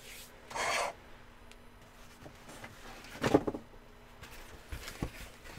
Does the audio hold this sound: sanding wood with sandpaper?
yes